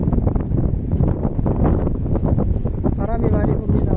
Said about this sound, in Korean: 바람이 많이 붑니다.